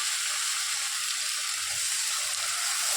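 Spice paste frying in hot oil in a home Bengali kitchen gives a steady, dense, bright sizzle throughout, close and even, with no voices.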